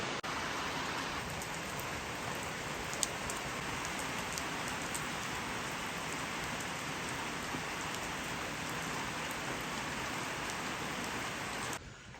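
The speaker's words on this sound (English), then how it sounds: "Out here enjoying the rain" Steady rain falling outdoors around a garden with a hibiscus plant, a dense continuous hiss of drops hitting surfaces that holds even and close for the whole stretch, with no voices.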